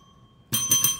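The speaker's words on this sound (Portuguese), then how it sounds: "Aciona o sininho das notificações" A bright notification bell chime strikes suddenly after a near-silent start, ringing out with a couple of quick repeated accents, loud and close with no talking.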